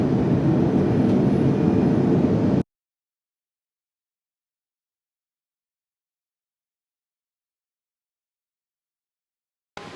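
A steady broadband rumble fills an airplane cabin cruising at 38,000 feet. It holds for a few seconds, then cuts abruptly to silence before briefly returning at the very end.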